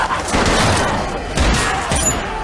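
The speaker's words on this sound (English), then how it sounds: "Yo, they're avoiding gunshots." Rapid bursts of gunfire crackle in quick succession in the TV show The Last of Us, loud and dense, with sharp cracks punctuating the volley.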